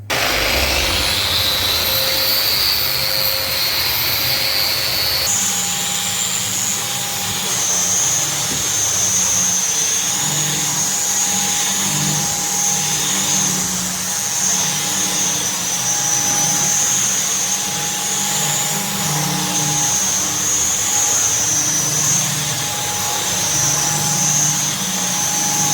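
A concrete floor being ground down before levelling gives a loud, continuous machine drone with a steady high whine on top, running unbroken the whole time with no voices.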